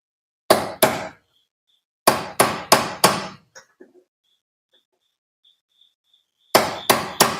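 Hammer blows on a tie rod of a BMW 328i, two sharp metallic strikes, a pause, then three more, a few faint taps, then another run of three, loud and close with no talk.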